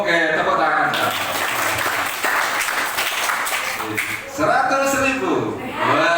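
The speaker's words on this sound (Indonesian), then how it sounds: "Oke, tepuk tangan." Children clap together at an Islamic study session at a Quran school, a short burst of applause with an adult voice talking over and around it.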